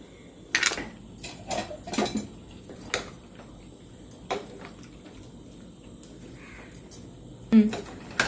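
A spoon scrapes and clinks against a pot while bitter gourd is stirred into a simmering mutton curry, giving scattered metallic taps and scrapes at an irregular pace.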